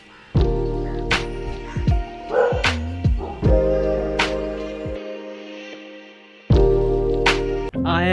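Dogs barking near an abandoned amphitheatre in a Delhi forest, several close, loud barks and yips in an irregular series, with a few whimpering tones between them.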